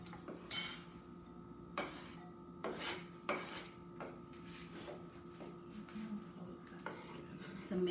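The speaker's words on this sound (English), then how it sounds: "now I'm going to be combining everything together" Mango salsa of onion, cilantro, tomatoes and chili pepper being stirred together in a bowl, giving repeated scraping, rubbing strokes at an uneven pace, close and moderately loud.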